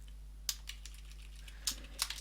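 Computer keyboard typed while writing code, a few scattered quiet keystrokes in two short clusters, alone over a steady low hum.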